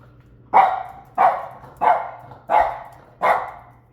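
A dog barks five times at an even pace, sharp and fairly close, with short quiet gaps between each bark.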